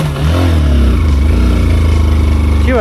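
A motorcycle on a light off-road trail rumbles loud and close, its engine held at a steady, throaty pitch throughout.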